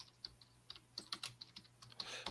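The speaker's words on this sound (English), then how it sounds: "I'm just typing on that." Someone types on a computer keyboard in a quiet room, a quick, irregular run of light clicking keystrokes, faint and close, with no talking.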